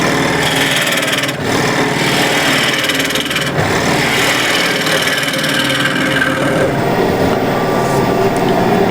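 A KS bowl gouge cuts the bottom of an apple wood bowl on a lathe, producing a continuous loud rushing, scraping hiss over a steady motor drone, close up with brief dips in the cut.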